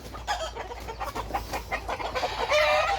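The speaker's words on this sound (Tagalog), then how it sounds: "yung mga manukan natin, nag-iingay na" Chickens in a farm run cluck and squawk close by in repeated overlapping calls, loud and busy throughout.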